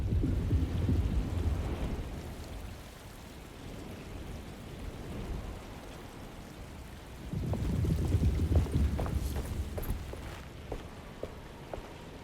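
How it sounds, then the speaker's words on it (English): Storm in the game Alone in the Dark, with steady rain hissing throughout and low thunder rumbling loudly at the start and again later, no voices. "Just keeping an eye out for the storm."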